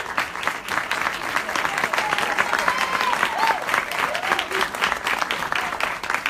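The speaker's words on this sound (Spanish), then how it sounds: "Un fuerte aplauso." A festival audience gives loud, sustained applause welcoming the festival president at a talks event, the dense clapping continuing evenly throughout with crowd noise mixed in.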